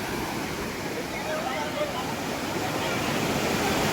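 Fast-flowing water in the Bhatsa Dam canal rushes steadily and loudly, a continuous churning roar with a faint voice murmuring underneath.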